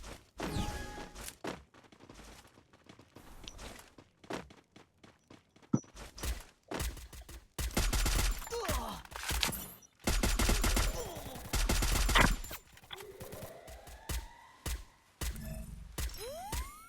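Bursts of gunfire from a shooting video game, rapid volleys and single shots, with footstep-like thuds and quieter gaps between the loud flurries.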